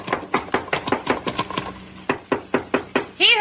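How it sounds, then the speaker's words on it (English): Hard, loud knocking on a trap door, a quick run of about eight heavy raps followed by a pause and five or six more, close and sharp, with a brief scraping or creaking sound at the very end. "You get to the top, just bang on the trap door."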